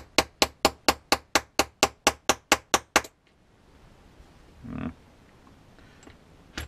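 A small watch hammer with a plastic end taps a bearing into place on a WPL C44KM Landcruiser RC truck, twelve quick, evenly spaced sharp knocks, close and crisp, followed by quiet handling and a faint shuffle.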